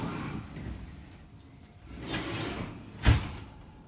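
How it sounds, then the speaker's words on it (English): A kitchen oven door swings open with a soft sliding rumble, ending in a short, distinct clunk as it settles, heard nearby with no talking. "grab a mitten and open up the oven"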